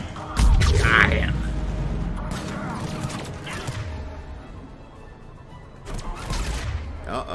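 In the Mass Effect 3 video game, a turret fires a burst of heavy shots, then quieter mechanical rattles and further bursts follow amid game noise and a faint voice.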